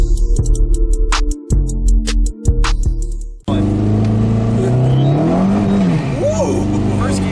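A Chrysler PT Cruiser GT with a Mopar Stage 1 tune drives along. Its engine comes in loud and close partway through and holds a steady, rising drone, with other sounds before it.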